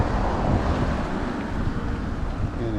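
Steady wind buffeting the microphone at a frozen lake in winter, a loud continuous rumble and rush with no talking.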